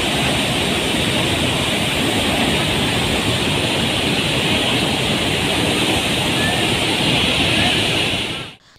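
Floodwater at the Kadem project in Nirmal district rushes through 14 open dam gates, a loud, steady, roaring wash that fills the whole scene without pause before cutting off abruptly.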